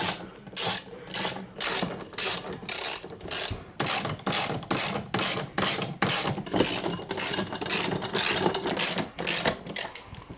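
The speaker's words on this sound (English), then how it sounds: "Now it's all started, we're just gonna snug it down." A ratchet wrench snugging down mounting bolts while installing a 12V air conditioner on a fifth wheel trailer, a long run of quick, evenly spaced mechanical clicks, close and loud, with no voices.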